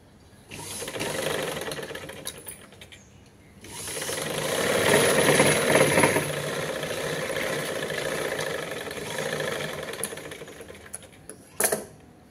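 An electric sewing machine stitches cloth, reverse-stitching over a seam, its motor whirring in steady bursts that swell and ease, with a short mechanical clatter near the end.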